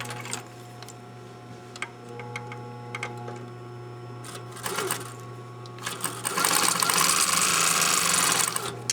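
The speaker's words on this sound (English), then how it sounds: "I'll pin it at the dot and I'll start sewing down this side" A sewing machine stitches a gusset seam, with a few soft ticks and clicks over a steady low hum before the machine runs loudly and continuously near the end.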